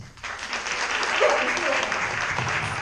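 Theater audience applauding at a new play festival, a broad crowd clapping that swells in after a brief pause and stays steady, with faint voices mixed in.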